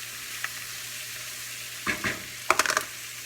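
Peppers being stirred in a pan for chicken cacciatore, with a quiet steady sizzle and a couple of bursts of scraping and stirring near the end, heard close up.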